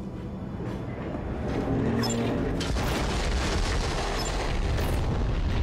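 A rumbling explosion rolls through a forest in Borderlands 3, a loud sustained boom under steady train-like mechanical rumble that swells about two seconds in and stays heavy to the end.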